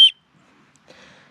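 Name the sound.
whistle on a small ferro rod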